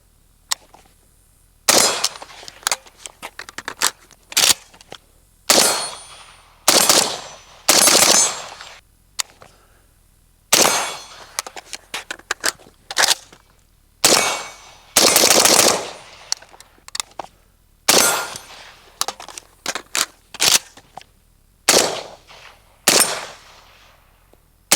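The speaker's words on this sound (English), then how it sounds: "So less talking, more shooting." An RPK rifle chambered in 5.56 fires from Bulgarian magazines in repeated loud bursts of automatic fire, each burst followed by a brief pause, with sharp echoing reports throughout.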